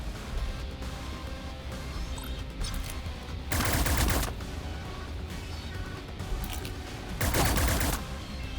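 Loud video-game gunshots from Cyber Knights: Flashpoint come in two separate heavy bursts amid quieter background game sounds.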